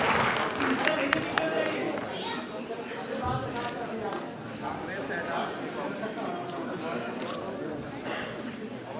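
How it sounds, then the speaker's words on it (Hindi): An audience at the Kaifi Azmi Award 2016 ceremony at the Sangeet Natak Academy in Gomti Nagar claps in a sustained crowd applause. Loud, sharp claps come early, then settle into a softer ripple under a speaking voice and crowd chatter. "उधर एक बार तालियां बजाई"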